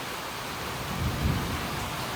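Heavy rain falls steadily in a thunderstorm, a dense even hiss with a low, muffled rumble of thunder swelling briefly in the middle; no voices.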